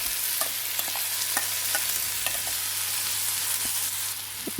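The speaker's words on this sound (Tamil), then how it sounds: "இந்த தக்காளி இஞ்சி பூண்டு பேஸ்ட்டெல்லாம் அதெல்லாம் சேர்த்துட்டு இதை நல்லா வதக்கி விட்டுக்கோங்க" A tomato, ginger and garlic paste is sautéed in oil for boiled egg gravy, a steady hiss of frying with soft, regular spoon scrapes against the pan, close and without talking.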